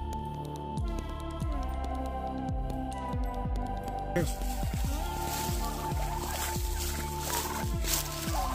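A flock of poultry clucks and gobbles continuously nearby, with repeated descending calls layered over a steady background hum.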